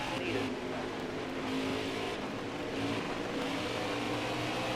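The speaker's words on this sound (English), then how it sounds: "I know this car wants to spin out." A NASCAR Cup Series race car in NASCAR Heat 5 at Bristol, its engine roaring loud and sustained with shifting pitch under a game mix, as a car struggles near the end of a race.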